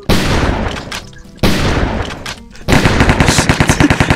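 M4A4 rifle fire in a Minecraft version of Counter-Strike, heard as loud bursts of rapid automatic shots separated by short pauses, ending in a fast, steady string of rounds.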